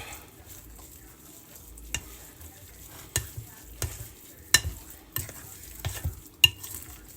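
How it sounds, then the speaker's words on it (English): Spoon stirring a Mexican casserole mixture with a can of diced tomatoes and green chilies, with scraping and clinks against the pot that come irregularly over a faint sizzle, close and with no talking. "1 can of them diced tomatoes, green chilies. We'll stir that up."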